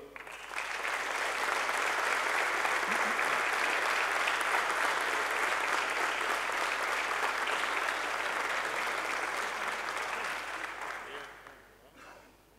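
A large audience applauds at a municipal ceremony in Mogán honouring local police officers for over twenty years of service; sustained, even clapping holds for roughly ten seconds before tapering off and fading out.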